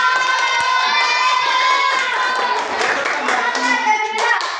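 A class of students in a school classroom claps hands together, a sustained burst of applause mixed with children's voices and shouting, fairly close and loud throughout.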